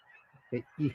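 A pair of short, nasal honks from ducks flying overhead stand out clearly over a quiet outdoor background, the second call louder and longer.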